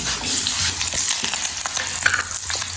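Eggplant and onions fry in a pan with a loud, continuous sizzle broken by crackles and stirring scrapes, heard up close.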